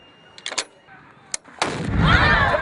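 A cannon fired by an army ROTC crew at a home football game gives one loud, booming blast that rolls out and lingers, after a few short, sharp knocks.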